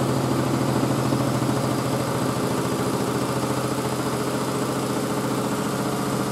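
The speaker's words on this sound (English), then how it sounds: "That noise is just a front panel." Miele W562 Prestige Plus 6 washing machine spinning during a boil wash, its loose front panel buzzing and rattling in a steady, loud, continuous drone close by, with no talking.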